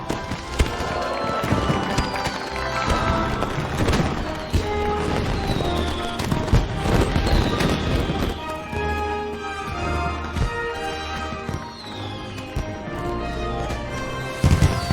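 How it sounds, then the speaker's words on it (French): Fireworks display at a royal celebration in a French TV film: dense, continuous bursts and crackling booms with whistling rockets rising through them, loud and sustained throughout. "Venez tous profiter des feux d'artifice!"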